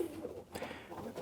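Racing pigeons coo softly in a loft before being basketed for their first race, a faint, low murmuring call heard briefly on its own.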